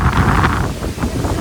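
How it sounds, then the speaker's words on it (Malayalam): Strong wind buffets the microphone outdoors at a family picnic and camping spot, a loud continuous rumble with gusty surges and no speech. "ഭയങ്കര കാറ്റാണ് കേട്ടാ."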